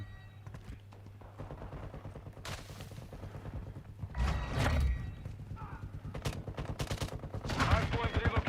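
Gunfire in the shooter game Call of Duty Modern Warfare II: repeated rapid shots and bursts over a steady background hum, with louder clusters of firing at intervals throughout.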